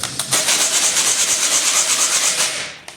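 Folded 20 grit sandpaper is rubbed against itself in a quick steady back-and-forth rhythm, giving a loud, close, coarse scratching that stops near the end.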